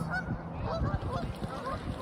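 Geese or ducks honk repeatedly from a flock on cold open water, a steady chorus of overlapping calls at moderate distance with no talking.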